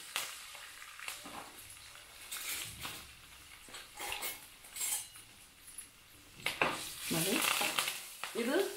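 Mustard seeds, cumin and curry leaves sizzle and crackle in hot oil for a tempering, with sharp popping bursts that swell and fade close by, some utensil clinks, and no voices.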